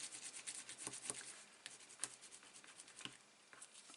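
Faint, soft rubbing of vanilla card stock being pressed down by hand, a quiet scratchy brushing with a few light ticks.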